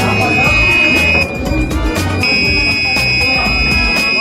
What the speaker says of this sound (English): we worked on a melody player with a buzzer, where we programmed it to play a tune